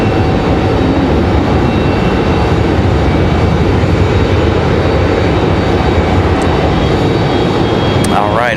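Icelandair jet arriving at Raleigh-Durham from Reykjavik, a loud, dense, continuous engine rumble and rush that stays steady from start to finish.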